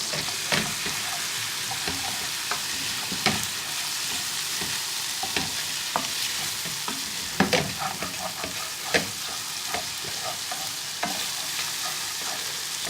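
Vegetables for a British Indian restaurant-style vindaloo fry in a pan with tomato paste, a steady close sizzle broken by repeated scraping and clattering stirs, with no talk.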